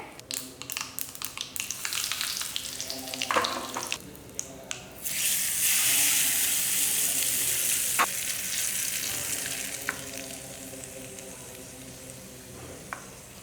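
Steady frying sizzle of spices and urad dal in hot oil, with a few clinks and stirring scrapes early on, then a louder continuous crackle; no talking.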